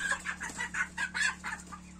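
Roosters and hens penned together in a coop cluck in a quick run of repeated bursts, close and fairly loud, over a steady low electrical hum.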